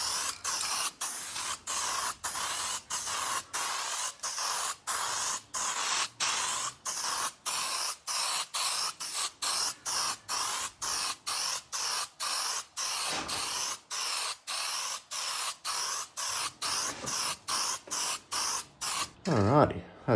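Spray can laying a thicker clear coat onto exhaust tips, dozens of short even hissing bursts repeating rapidly and steadily, close and fairly loud, with no talking.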